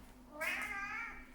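A house cat gives one drawn-out, plaintive meow close by, asking to be let outside, heard alone over a faint room hum.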